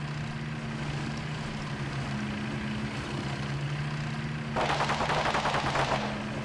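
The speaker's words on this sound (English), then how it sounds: "Oh, there's a bit of shooting" Burst of gunfire from a war video game, with a BTR armoured vehicle driving along, loud rapid shots arriving after a few seconds over a steady engine drone.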